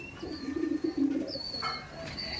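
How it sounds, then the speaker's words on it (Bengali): Pigeons in a Kaldom and Laldom loft give a run of soft, low, throaty coos that pulse for about a second, then fade into faint background chirps. One bird is a male feeding a chick. "এটা হচ্ছে নর পায়রা, দেখুন নরের কতটা গাল ফুলি আছে দেখুন"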